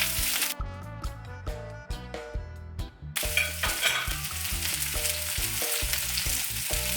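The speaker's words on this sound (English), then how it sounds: "And the first thing I like to do is just toss it up a little bit into the oil first." Carrots, onions, Scotch bonnet and bell pepper frying in oil for Jamaican escovitch fish, a steady loud sizzle with a pan being tossed and stirred, under a background music track.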